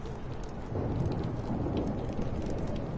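Steady rain pours during a storm in the video game Life is Strange, with a dense hiss of falling water and a low rolling rumble of thunder swelling partway through.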